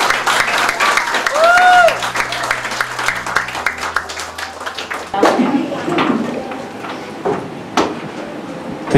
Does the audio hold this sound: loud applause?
yes